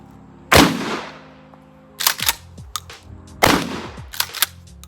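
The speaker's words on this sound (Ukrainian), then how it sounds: "спочатку спробуємо постріляти кульовими патронами, які які я особисто споряджав" Two loud, close gunshots from a Hatsan Escort pump-action shotgun firing hand-loaded slugs at a range, each followed by a mechanical pump-action rack and clatter, with a pause between them.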